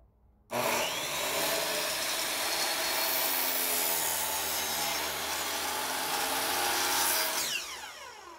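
A power saw cuts through wood, running off an Oscal PowerMax 3600 portable power station. After a moment of quiet the motor spins up into a loud, sustained rasping cut that throws sawdust, then it spins down, with no one speaking.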